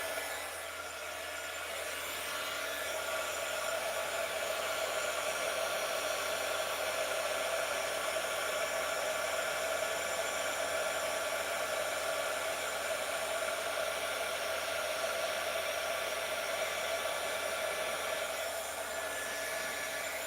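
A handheld craft heat tool blows hot air over paper for a mini album, a steady, even whooshing roar that runs unbroken for the whole stretch with no talk.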